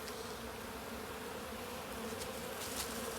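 Honeybees swarm around their hives in a dense, steady buzz that holds throughout, a few insects passing close with brief louder drones.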